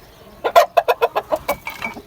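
A rooster gives a quick run of about eight sharp, loud clucks close by, evenly spaced over a couple of seconds, with nothing else heard.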